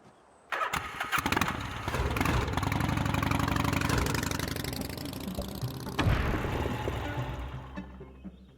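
A beat-up moped engine in Gabriel Knight 3 kicks into life after a short click, then settles into a steady, close idle with a slight rev bump partway through before fading out.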